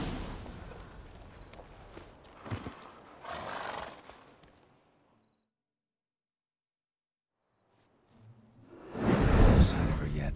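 Roach, Geralt's horse in The Witcher 3: Hearts of Stone, neighs and trots in loud, close bursts of snorting whinny and hoofbeats. Voices are heard over the horse, and a silent gap falls in the middle before a louder final burst.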